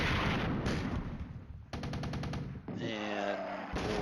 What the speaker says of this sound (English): Bradley and heavy machine gun.